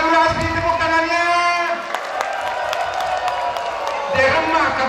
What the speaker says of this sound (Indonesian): Mana Madura asli, tepuk tangannya?